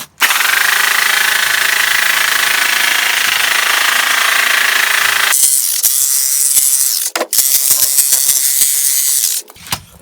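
A repaired Qualcast electric hedge trimmer runs in a garden, a loud buzzing drone that carries for about five seconds, then changes tone, cuts out briefly and restarts before stopping.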